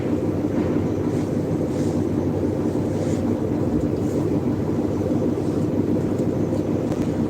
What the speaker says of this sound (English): Shit sound like a plane on field.